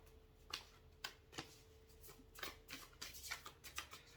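Tarot cards are shuffled by hand, quiet close riffles and soft slaps in uneven bursts that grow busier toward the end.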